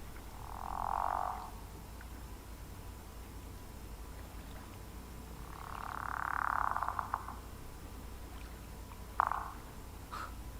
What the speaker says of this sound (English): The frog is totally cool.